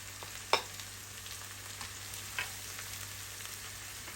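Ground spices go into a hot frying pan for a laishak and boal fish curry, giving a soft, steady sizzle with a couple of brief clinks near the start.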